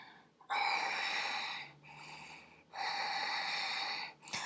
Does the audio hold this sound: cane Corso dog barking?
no